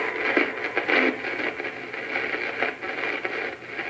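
Radio outdoors on a snowy day gives off hissing static with faint, shifting tones that rise and fall in short bursts, quiet and fairly close with no talking.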